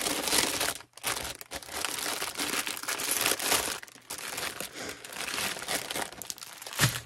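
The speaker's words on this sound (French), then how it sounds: "Je vais ouvrir le sachet des diamants." Plastic bag of diamond painting drills being opened, a loud, continuous crinkling and crumpling of plastic, close up, with brief pauses and no talking.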